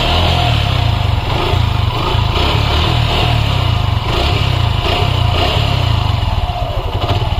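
A Suzuki Gixxer SF motorcycle engine runs steadily at idle, close and loud, with a continuous clattery timing chain rattle layered over the low engine throb and no voices.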